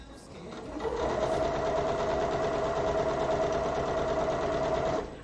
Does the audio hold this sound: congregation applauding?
no